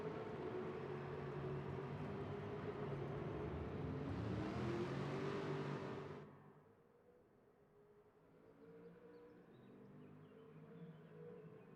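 An Aston Martin V8 Vantage road car engine drones loud and steady in Gran Turismo 7, holding a sustained rev for six seconds before cutting off abruptly to a lower, quieter hum.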